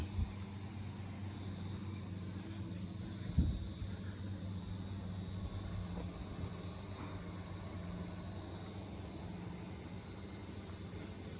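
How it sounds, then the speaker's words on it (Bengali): Crickets chirp in a steady, unbroken drone at a forest resort in Jhargram, with one brief low thump partway through and no voices. "ঝিঝি পোকার ডাক"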